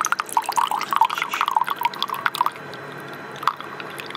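Hot water runs from an AQUIBEAR tabletop water purifier on its hot mode, trickling and splashing into a cup nearby, with dripping bursts that thin to a faint steady flow.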